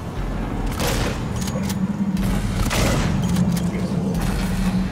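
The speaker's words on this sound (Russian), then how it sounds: "Три выстрела, чтобы убить этого ублюдка." Shotgun blasts in the survival horror game Alien: Isolation, several heavy booming shots spaced about two seconds apart over a steady low rumble of ambient game noise.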